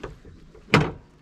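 A locked door on a small abandoned wooden shed is rattled, giving one sharp, close clattering knock amid quiet outdoor background.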